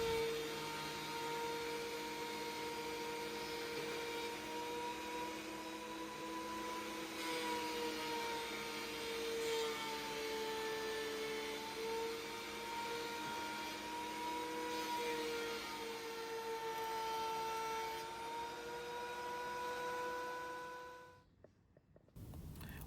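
Wooden boards running through a planer, a loud steady whining drone with strong sustained tones for about twenty seconds before the machine cuts off abruptly near the end.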